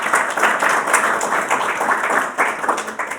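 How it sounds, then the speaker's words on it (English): Warm applause from the audience at an evening eCommerce network speaker event greets the guest speaker, brisk and continuous clapping that stays loud throughout. "So big round of applause."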